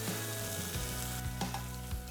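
Tomato sauce sizzles and spits in a hot frying pan while being stirred, a continuous close frying hiss with a few soft scraping taps, cooking a honey sauce.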